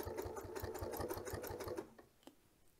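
A sewing machine stitches down quilt binding in a rapid, steady run of needle strokes for almost two seconds, then stops, leaving a couple of faint clicks.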